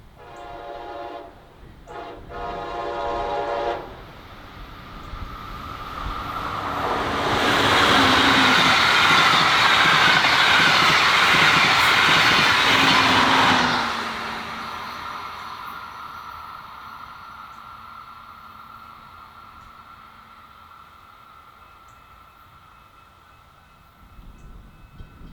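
A southbound Brightline passenger train in a wrapped livery sounds its horn, first in short blasts and then with a long sustained blast as it roars past close by, its rumble fading into the distance.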